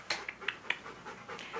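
A dog over 40 pounds panting close by, with quick rhythmic breaths in a steady series of short huffs, fairly quiet and without speech.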